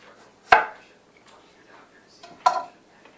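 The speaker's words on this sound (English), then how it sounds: "So I'm going to slice a couple more. Got room for a couple more, so I'm just going to use a knife here to do that." A knife cuts through potatoes for homemade chips, two sharp close chops about two seconds apart with faint handling sounds and quiet background between them.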